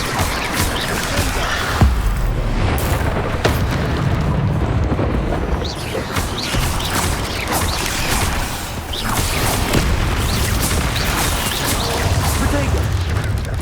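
Bombarda explosion spells cast in a Hogwarts Legacy battle, repeated blasts and crashes with whooshes in a dense, continuous stream of combat noise while a voice keeps calling out spell names.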